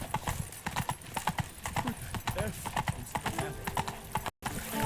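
Horse hooves clip-clop in a steady galloping rhythm in The Witcher 3, close and prominent, with a rider's voice and other game speech over the hoofbeats.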